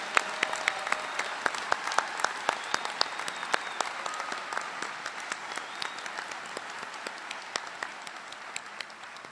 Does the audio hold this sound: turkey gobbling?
no